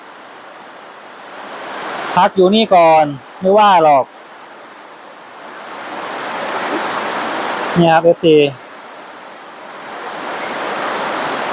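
Heavy rain falls on a house as a dense, even hiss that swells toward the end, with someone speaking in short bursts over it.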